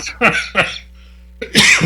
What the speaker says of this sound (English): Myself as I cough.